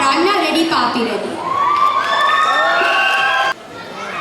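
Audience at a Ugadi cultural event cheering and shouting after a dance performance, a dense, loud, sustained roar of voices with high whoops that cuts off abruptly near the end.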